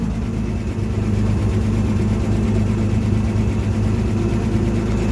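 An old Clark forklift engine idles steadily after a cold start, a continuous low rumbling drone with a slightly uneven pulse, close and unbroken, with no voices.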